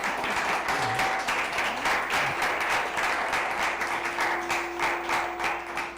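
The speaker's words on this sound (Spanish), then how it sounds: "un aplauso Iván" An audience at a talk on Tesla-inspired science fiction applauds Iván with steady, dense clapping that holds at an even level throughout.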